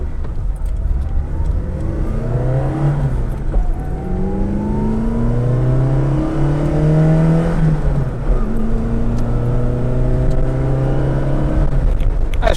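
A Fiat 147 GL engine revving repeatedly during heel-toe downshifts, with rising and falling engine pitch sweeps, loud and close, and no talking.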